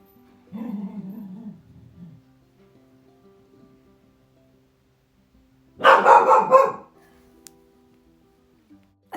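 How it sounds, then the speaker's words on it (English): A pet dog named Mabel barks indoors in two short bursts, a fainter run of yaps early on and a louder, sharper cluster of barks a few seconds later, with quiet stretches between. "I just had to stop the voiceover then because Mabel wouldn't stop barking"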